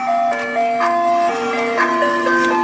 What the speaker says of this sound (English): I heard the ice cream truck coming down the road.